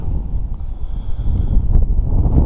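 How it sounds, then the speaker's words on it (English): Wind gusts at night on the Lickey Hills, buffeting the microphone with a loud, continuous low rumble that swells and eases, with no one speaking. "If that wind would go away, it would be beautiful."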